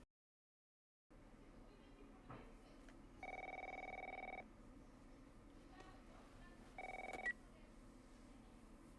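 In The Last of Us Part I, a telephone rings twice in short electronic bursts against a quiet indoor background, followed by faint movement sounds.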